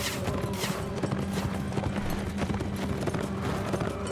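Galloping horse hooves from the Mount & Blade: Warband game, a steady dense clip-clop under battle noise with no talk, continuous and fairly close throughout.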